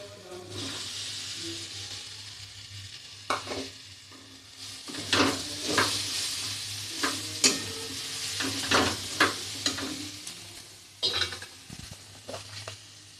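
Grated potato sizzles and hisses in a hot pan for a pumpkin cutlet, with intermittent scraping stir strokes cutting through a constant frying crackle.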